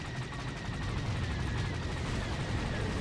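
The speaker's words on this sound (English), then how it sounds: "I hit him with a missile." Missile strike in a spaceship dogfight in Star Wars: The Old Republic, a dense continuous roar of explosive blasts and rapid gunfire-like bursts at steady loudness throughout, with no voices.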